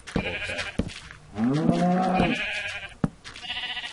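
A Minecraft sheep gives one loud, wavering bleat lasting about a second, set between soft clicks and game sounds.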